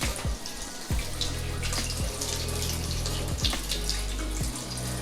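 Tap water runs steadily and splashes into a sink, pouring over food in a strainer, with a few clattering knocks and shifts in the flow as the strainer is moved under the stream.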